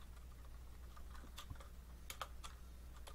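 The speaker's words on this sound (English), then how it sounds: "Let's type something into file 2." Soft keystrokes tap on a computer keyboard, faint and irregular over a low background hum, with a few sharper clicks near the end.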